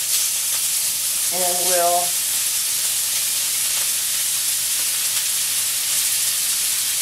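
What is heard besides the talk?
ground beef hamburger and sausage browning in a pan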